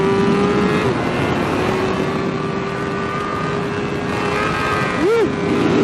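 Honda CBR1000RR-R Fireblade SP superbike howls at high revs on a race track, a loud, sustained engine roar that holds steady before a brief rising-and-falling pitch swing near the end, with no talk over it.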